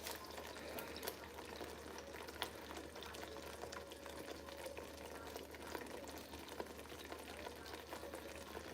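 Party jollof rice sauce simmering in a pot with oil rising to the surface, giving a steady, even bubbling and gentle hiss that continues unbroken with no talking.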